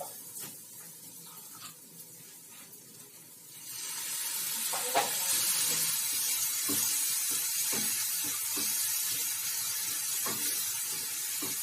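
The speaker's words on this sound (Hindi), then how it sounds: "थोड़ा सा पानी और डालूंगी ताकि मसाले अच्छे से पक जाए।" Masala spices cooking in a pan for crispy taro root sizzle loudly once a splash of water goes in, the hiss jumping up and holding steady with a few soft clinks of stirring.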